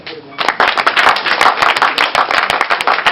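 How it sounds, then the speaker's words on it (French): A crowd claps loudly and steadily for the mayor at an outdoor celebration of the deities at the Folly Gbogbo sacred forest in Benin, a dense, close, continuous patter of many hands lasting throughout. "applaudir très très très fort pour le maire"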